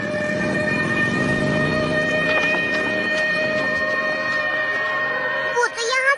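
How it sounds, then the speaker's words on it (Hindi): A cartoon siren wails steadily in a Doraemon episode, a loud sustained tonal blare with sliding pitch that holds throughout before breaking off at the end. "ये सायरन किस लिए था?"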